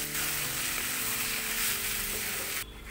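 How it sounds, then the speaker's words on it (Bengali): Chopped onion and mustard oil sizzle loudly and steadily with mashed spinach in a pan for Bangladeshi palong shak vorta, a dense continuous frying hiss that cuts off abruptly near the end. "পেঁয়াজ এবং তেল দেবার পর 1 মিনিট নাড়াচাড়া করে গ্যাস অফ করে দেব।"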